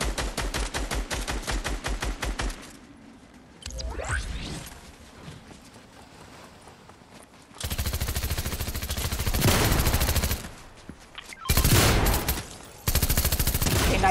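Rapid bursts of video game gunfire with automatic rattling, broken by pauses and mechanical clatter, loud and close.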